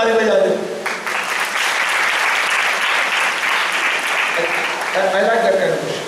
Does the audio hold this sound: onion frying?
no